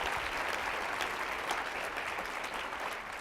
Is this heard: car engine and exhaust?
no